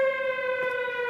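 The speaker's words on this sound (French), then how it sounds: "C'est une alarme." A steady alarm siren wails in an animated film, holding a sustained pitch with bright overtones throughout, loud and alone with no talk over it.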